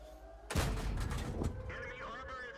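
A tank gun fires a single loud, booming shot in the World of Tanks video game, followed by a sustained rumbling tail and lingering battle ambience, with a voice talking over it.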